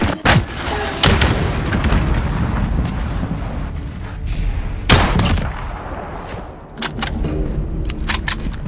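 Heavy gunfire rings out in the Modern Warfare video game, a real sniper rifle among the loud, booming shots that repeat through constant battle noise, with several sharp blasts standing out.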